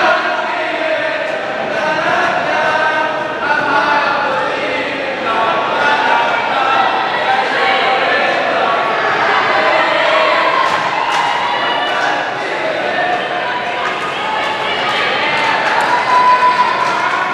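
Crowd noise at a JV girls' volleyball match between Dunn School and Ojai Valley Prep: a steady, loud wash of cheering and chatter with scattered thuds and shouts.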